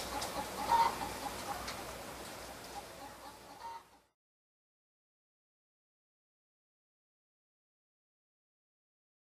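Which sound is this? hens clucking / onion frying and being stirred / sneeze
hens clucking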